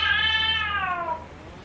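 A cat gives a single drawn-out meow, its pitch sliding gradually downward, close and fairly loud in a quiet room with a low steady hum underneath.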